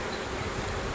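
Honey bees buzz around an open hive during requeening, a steady, close, dense hum with no pauses, faint overall and free of talk.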